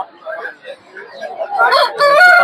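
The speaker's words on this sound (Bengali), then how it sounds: "সিল্কি মুরগির মতো দেখতে পাচ্ছেন একটা মুরগি" A silkie chicken clucks and calls close by at a poultry and bird market in Narsingdi, building to louder, strained crowing calls in the last second over soft background murmur.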